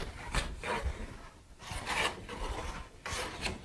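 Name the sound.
hand plane shaving wood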